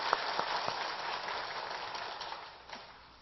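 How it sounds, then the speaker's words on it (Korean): Congregation applause in a church, a dense patter of clapping from many hands that swells briefly and then fades out near the end. "여러분 격려의 박수 부탁합니다."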